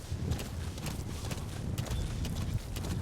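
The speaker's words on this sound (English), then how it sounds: "This time we get to do it while riding a horse. So we can sprint with the horse." Horse galloping in Metal Gear Solid 5: The Phantom Pain, a steady rapid clip-clop of hooves at sprinting pace, close and continuous under a low rumbling background.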